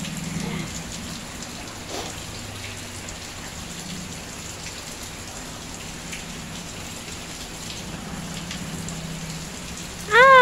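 Steady rain pours down and patters on surfaces in a continuous, even hiss that stays fairly loud, with a brief voice near the very end.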